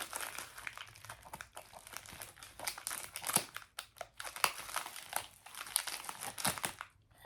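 Close, continuous crinkling and rustling of plastic packaging being handled and pulled open, in irregular bursts with no talking.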